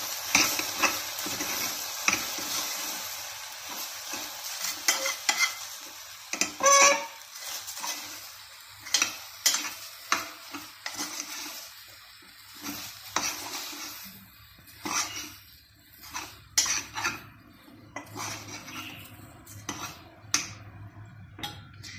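Okra fry with masalas being stirred in a pot: a spoon scrapes and clinks steadily against the vessel over a soft sizzle, close and continuous without talk.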